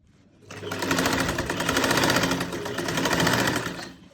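A sewing machine runs steadily while stitching the side panel of a garment neckline, a continuous close whirring drone with rapid needle rhythm for about four seconds after a brief quiet start, no talk.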